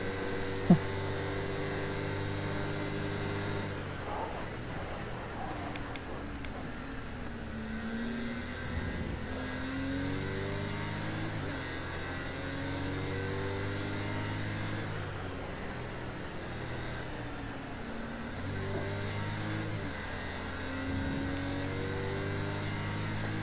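A video-game car engine drones steadily for the whole stretch, its pitch stepping and sliding as gears shift down and revs climb again, loud and continuous with no talking.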